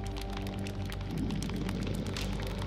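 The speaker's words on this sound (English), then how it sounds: "a shower of rain tumbles over them" Rain shower in the video game Burly Men at Sea, a dense, loud patter of drops pelting a surface with a low rumbling undertone, steady throughout and with no voices.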